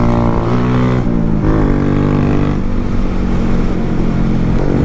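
A Honda Grom stunt motorcycle's small engine runs steadily at a close, loud level, with a brief rev change near the start and a continuous buzzing drone throughout.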